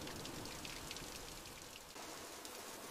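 Steady rain falling on a rural rooftop and surfaces, a dense, even hiss of drops close by with no voices over it.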